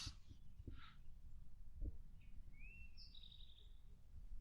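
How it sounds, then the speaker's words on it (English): Birds sing outdoors during a backpacking trip, with a few distinct chirps and one clear whistled call rising then falling, set over a low rumbling background. "Can you hear those birds?"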